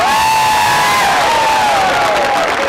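A loud crowd at a Labor Day King Coal crowning cheers and whoops for the Heritage Club, a dense roar of many voices holding steady with shouted calls rising over it.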